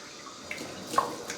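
Water running and splashing as a face is rinsed at a sink after a shave with a Gillette Slim razor, a soft, brief wash of trickling and dripping, close and fairly quiet.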